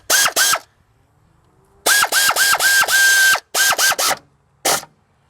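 A ratchet works on water pump bolts of a 2005 Ford Freestyle in rapid bursts of clicking strokes, loud and close, separated by short pauses.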